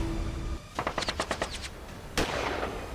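A rapid string of about eight sharp gunshots cracks out in news footage, followed a moment later by one more distant bang over background noise.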